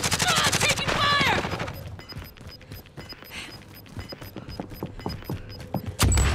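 Gunfire in a shooter video game crackles in scattered rapid bursts and single shots at mid distance, with a voice talking over the start and a heavy blast at the end.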